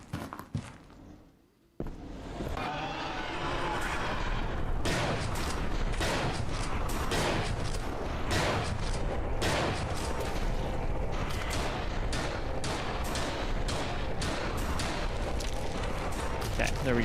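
Rapid shotgun blasts and heavy gunfire crowd a boss fight in the game Saint of Chains, loud and dense, sounding almost nonstop after a brief quiet start, with a voice talking over the action.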